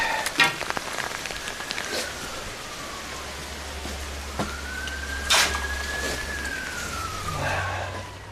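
Rain falls steadily on a framing construction site, a constant soft patter with a few louder drips, while a siren rises and falls in the distance.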